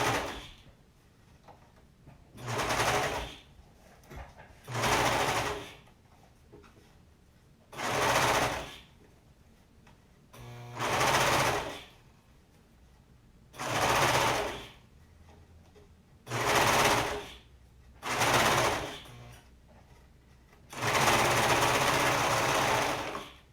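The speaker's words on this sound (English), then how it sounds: "We're going to match up all the edges and sew it down." A sewing machine stitches a dress sleeve and cuff together in eight separate bursts of rapid whirring, each lasting a second or two with short pauses between them, and the final run is the longest.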